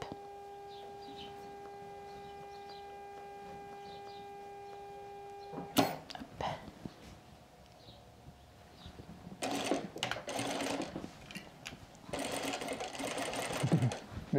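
A sewing machine stitches a fabric bias strap in long motorized runs, with a steady hum early on, then a click and bursts of rapid needle chatter that grow louder toward the end.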